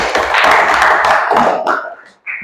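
Classroom applause rings out as a group is praised, a burst of close, lively clapping from several people that fades out, then briefly picks up again at the very end.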